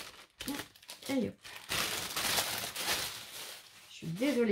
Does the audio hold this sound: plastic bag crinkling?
yes